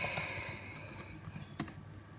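Quick, light keystrokes on a computer keyboard, a short burst of faint clicking taps in a quiet room.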